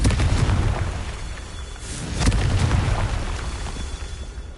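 A Confringo fire spell explodes in Hogwarts Legacy, giving a loud, dense rumbling blast with a sharp burst midway, sustained throughout with no speech.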